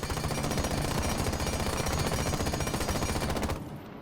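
Osa's automatic rifle fires in Rainbow Six Siege on console, a rapid, loud, continuous burst of shots for about three and a half seconds before cutting off into a faint tail.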